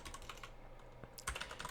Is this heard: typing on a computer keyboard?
yes